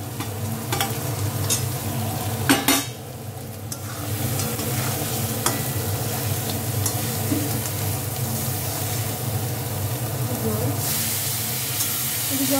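Fish sautéed and stirred in a pan for a mung dal with fish heads, a loud continuous sizzle with repeated scraping stir strokes, close up, with faint background talk.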